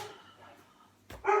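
Dogs bark indoors, with a brief loud bark near the end after quiet room tone and faint murmuring.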